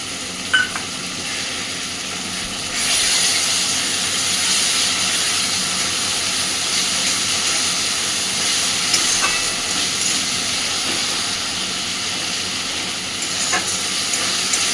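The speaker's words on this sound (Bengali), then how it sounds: "আদা রসুনের কাঁচা গন্ধ চলে যাওয়া পর্যন্ত সুন্দরভাবে এটাকে কষে নেব।" Ginger-garlic paste sautés with chicken in a hot pan, a steady close sizzle that swells after a few seconds and holds evenly, broken by occasional light clinks of a spoon against the pan.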